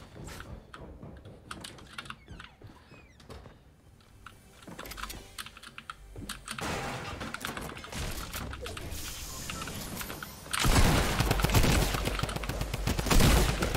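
Fortnite gunfire in short bursts mixed with rapid keyboard typing and clicking, growing denser and louder toward the end and ending in a heavy sustained barrage.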